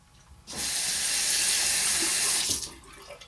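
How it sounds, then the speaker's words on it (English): Tap water runs into a sink to wet a RazoRock Stealth V3.0 razor, a steady close hiss that starts abruptly, holds for about two seconds and cuts off. "let me just wet the razor and let's go against the grain"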